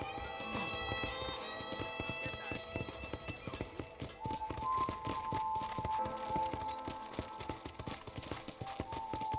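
Rhythmic clip-clop of horse hooves trotting in Red Dead Redemption, a busy patter of hoofbeats over layered tonal background music and chimes.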